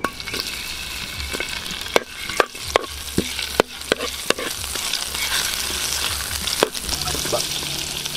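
Ginger frying in oil for spaghetti oil, a steady close sizzle broken by a handful of sharp utensil clicks and taps against the pan.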